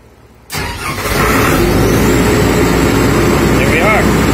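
A MEP-805B military diesel generator starts on its autostart system after a brief quiet moment, its engine catching abruptly and settling into a loud, steady running roar close by.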